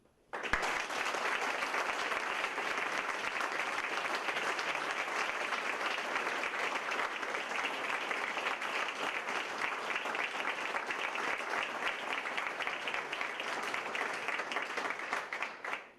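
Sustained applause from a lecture-hall audience at a distinguished lecture series, a dense, steady wash of many hands clapping that holds at an even level for about fifteen seconds before tapering off.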